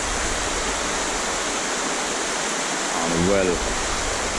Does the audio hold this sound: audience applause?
no